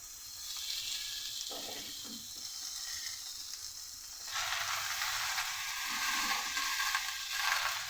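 Pumpkin, potato and vegetable stalks sizzling in a pan as Malabar spinach leaves go in, a steady bright hiss that swells louder partway through and stays close, with no talking.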